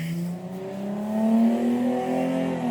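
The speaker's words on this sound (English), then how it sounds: "I just had a really loud car fly down my street." A loud car speeds down a residential street with a rising, droning engine roar that swells and fades across a few seconds, heard from indoors at a moderate distance.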